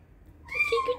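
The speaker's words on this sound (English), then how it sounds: "He's a baby kitten." A baby kitten gives a short rising meow, close and clear, with a second quick cry right after.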